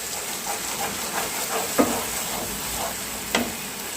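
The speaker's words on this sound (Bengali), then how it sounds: "আমি দিয়ে দিচ্ছি সর্ষে পোস্ত বাটাটা। এটা দিয়ে আমি ভালো করে 2-3 মিনিট কষিয়ে নেব" Mustard and poppy seed paste sizzles in a pan of fried spices for potol posto while a spoon stirs it, a steady close frying hiss broken by two sharp scraping knocks against the pan.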